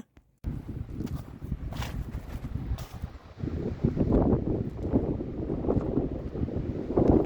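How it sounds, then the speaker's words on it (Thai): Strong winter wind buffeting a parked car, heard from inside as low, gusty rumbling that swells and surges after a short quiet start, growing louder toward the end. "ข้างนอกลมแรงมากค่ะต้อนั่งอยู่ในรถอยู่นะคะ"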